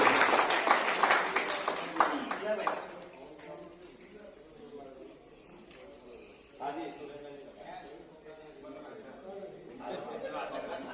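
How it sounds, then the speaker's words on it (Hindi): Scattered audience clapping at a Rajasthan community talent-honouring ceremony and blood donation camp, strongest in the first few seconds, then someone speaks over a PA while faint clapping continues. "जोरदार तालियां बजाइए"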